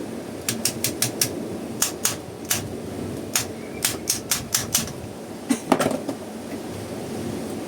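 Sharp, irregular hammer strikes ring out one after another, some in quick clusters, over a low background hum.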